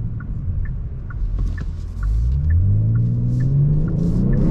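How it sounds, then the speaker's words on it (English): A 2022 Genesis G70 Sport sedan drives along with a steady low engine rumble, then the pitch shifts and climbs again as the gears change during spirited driving. "Nice downshifts."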